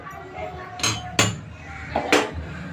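A metal ladle clinks against pots in a home kitchen while being set out for a hing tempering, giving three or four sharp, separate metallic knocks over a low hum, with someone talking.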